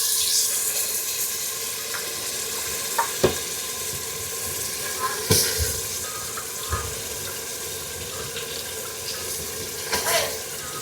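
Goat tripe added to a pot of simmering tomato curry gives a steady close sizzle and bubbling, with a few sharp clinks and stirring knocks over the top.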